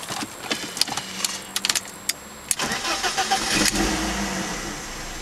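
A car engine cranks and catches after a few clicks and ticks, then settles into a steady, low idle that swells slightly, heard fairly quietly with no talking.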